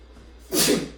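A single sharp sneeze bursts out after a brief quiet inhale, loud and close.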